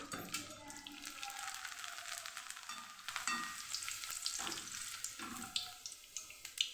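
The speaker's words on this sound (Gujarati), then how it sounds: "આપણું તેલ મસ્ત એવું ગરમ થઈ ગયું છે તો આપણી નાની નાની ભૂંગળી છે તળી લેશું" Close, crackling sizzle of small fryums frying in hot oil, bubbling steadily with occasional sharper pops and brief dips in intensity.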